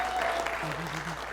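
Applause at a film market center-stage conversation on film distribution, a dense patter of clapping through the short clip, with a voice briefly audible over it.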